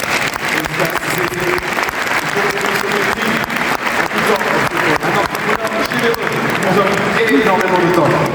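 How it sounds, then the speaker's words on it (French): A live audience applauding a guest named Stan, dense sustained clapping at full loudness for several seconds, rising slightly toward the end. "Merci beaucoup d'applaudir Stan."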